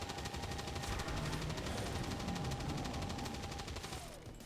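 Rapid automatic weapon fire in the tactical video game XCOM 2 Long War of the Chosen, a sustained, even stream of shots at moderate level that cuts off near the end.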